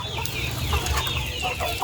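Chickens cluck steadily around a backyard range net enclosure, with several overlapping clucks from nearby birds over a constant low background hum.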